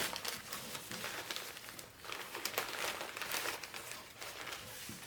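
Sheets of paper crinkle and rustle steadily while being folded into an origami samurai, a close, continuous crackling texture throughout.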